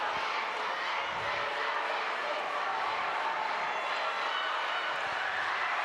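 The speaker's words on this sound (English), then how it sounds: "You can hear the Trumbull crowd. You can hear the St. Joe's crowd." Basketball crowds from Trumbull and St. Joseph fill the gym before tip-off with a dense, constant roar of cheering and chatter, loud and unbroken throughout.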